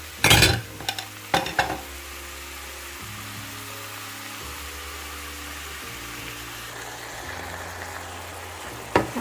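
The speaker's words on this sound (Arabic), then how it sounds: "نديرها في الزيت، انا درت شويه زيت الزيتون ونضيف عليها الكفته." Kefta meatballs and onion fry in a little olive oil, giving a steady soft sizzle close by, with a few clatters of a utensil against the pan at the start and again at the end.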